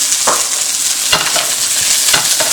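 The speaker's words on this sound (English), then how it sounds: "our onion is cooking" Sliced onion and diced ham frying in oil for shrimp fried rice, a loud steady sizzle broken by three quick stirring scrapes, close up with no voices.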